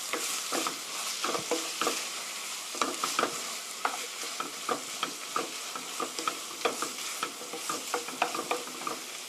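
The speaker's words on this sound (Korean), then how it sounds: "피망 넣어서 볶아 주시고요." Bell pepper stir-fried in a pan for chicken spaghetti gives a steady, close sizzle broken by frequent clicking scrapes of a spatula, with no talking.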